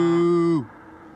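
A human voice imitates a cow with a single steady, droning moo that holds for about half a second, then drops in pitch and fades into quiet room tone.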